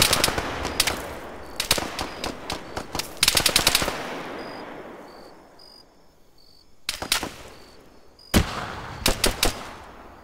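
Video game night firefight in a dark jungle, with loud bursts of automatic gunfire and single shots coming in rapid clusters and then pausing, while insects chirp faintly in the quiet gaps. No one speaks.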